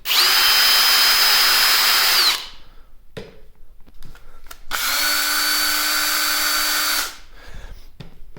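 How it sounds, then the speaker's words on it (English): A brushless cordless drill whines loudly in two runs of about two seconds each, with quieter handling noises and clicks between them. "The brushless stuff is freaking loud. This drill is so loud"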